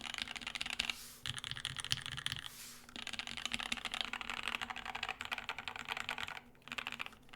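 Typing on a Cyberboard mechanical keyboard with a clacky character, a steady run of quick keystrokes at close range with a couple of brief pauses and no voices.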